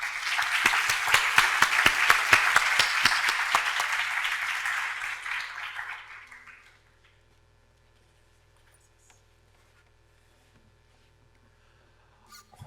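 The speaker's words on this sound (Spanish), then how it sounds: "Así que con un fuerte aplauso," Applause from an audience at a macroeconomics lecture welcoming a guest speaker, a dense steady round of clapping for about six seconds that fades out into near silence.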